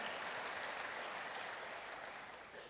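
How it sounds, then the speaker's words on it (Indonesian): A church congregation claps in praise, a dense, even wash of applause that holds steady before tapering slightly at the end, heard faintly from a distance. "Berikan dulu tepuk tangan bagi Tuhan."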